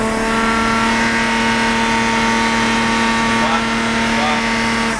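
A Lexus IS200 engine runs under load on a dyno, a steady, loud mechanical drone with strong held harmonics that climb slightly as it revs, continuous and close throughout.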